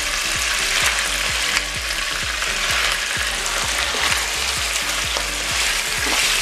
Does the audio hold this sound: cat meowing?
no